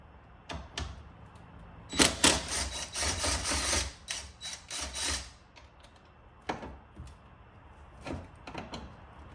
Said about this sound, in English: go ahead and take off these two 10mm bolts